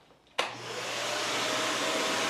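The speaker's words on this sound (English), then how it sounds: "Turn the vacuum on." A shop vacuum in a woodworking shop switches on abruptly after a brief quiet moment, then runs as a steady, close whooshing roar with a faint constant hum.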